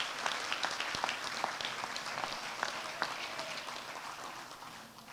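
Moderate crowd applause for a family at an outdoor bridge dedication and ribbon-cutting ceremony, a steady patter of many hands with a few sharper individual claps standing out, fading slightly toward the end.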